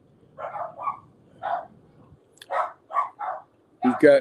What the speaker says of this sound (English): sorry for all the dog noises